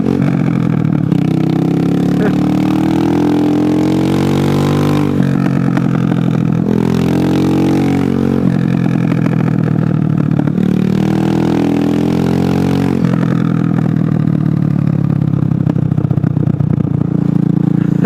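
A motorcycle engine revs hard in repeated rising pulls, each climbing in pitch then dropping back as it shifts, loud and close throughout with a mechanical clatter underneath.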